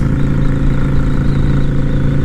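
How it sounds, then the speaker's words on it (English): A Yamaha V-Star XVS 650 cruiser motorcycle with an aftermarket exhaust rumbles close and loud, a deep steady throbbing note held without pause through the whole stretch. "I am addicted to that exhaust note."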